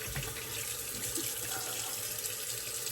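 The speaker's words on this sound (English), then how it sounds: "Okay, we'll rinse that off." A bathroom water tap running steadily into a sink as shaving lather is rinsed off, a continuous close rushing splash with no talking.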